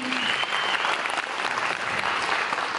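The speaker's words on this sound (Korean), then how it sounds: "박수 좀 주십시오." An audience at a Korean lecture breaks into applause, a loud, dense burst of clapping that holds steady throughout without pause.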